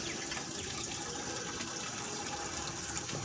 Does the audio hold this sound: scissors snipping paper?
no